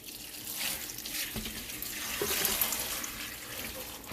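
Tap water runs steadily into a cooking pot, a close, splashing gush that shifts slightly in tone as it flows.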